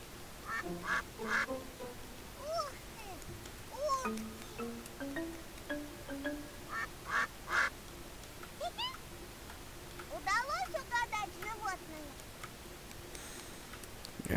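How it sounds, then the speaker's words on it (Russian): Cartoonish honks from a goose in the My Friend Peppa Pig video game, several short nasal calls in scattered bursts over quiet game background with small ticking sounds, with some talk. "Я и думал, что это гусь"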